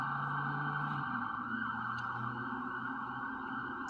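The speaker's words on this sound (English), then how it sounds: "Ambulance." Ambulance siren wailing at a distance, a steady wavering tone that stays faint and continuous throughout with no talk.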